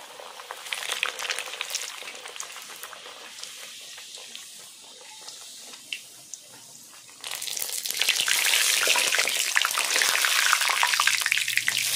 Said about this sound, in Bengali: এবার আমি লুচি ভেজে নেব।